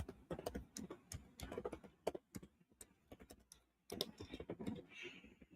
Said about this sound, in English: I'll just type in 300 subs celebration stream.